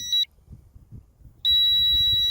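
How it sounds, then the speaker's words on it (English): A Ruko U11 Pro drone controller gives a high electronic beep briefly during return to home, pauses for a second of near quiet, then a long steady beep continues, close and clear. "the controller's beeping, and it's coming home"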